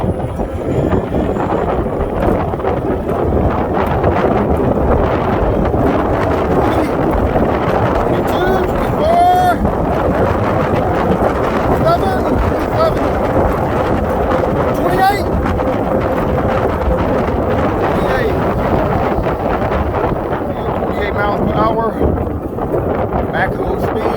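Strong, continuous wind roar buffets the microphone on a DYU V8 moped-style electric bike ridden at top speed with pedal assist, loud and unbroken throughout.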